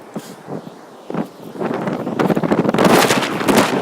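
Gusts of wind buffet the microphone near the sea in Newcastle, rumbling in bursts that grow louder and more constant toward the end.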